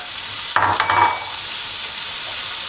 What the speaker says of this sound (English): I want you to bring in the vegetables and the noodles together and stir